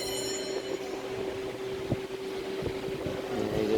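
A trawler boat's engine drones in a steady low hum with a persistent tonal whine, heard outdoors with some wind buffeting and a few soft knocks, and no voices.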